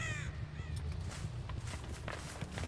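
A crow caws in the Dead by Daylight video game, a single call over steady low in-game ambience and rumble.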